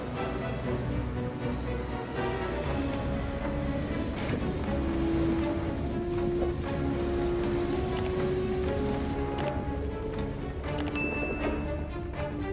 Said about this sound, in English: The long, fierce waves pounded the shore with terrifying force, creating a resounding roar.